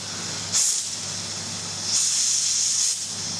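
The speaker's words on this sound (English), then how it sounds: "Does it always make that noise? It's releasing pressure." A cooking appliance vents steam pressure in two loud hissing bursts, a short one and then a longer one a second later, over a low steady hum.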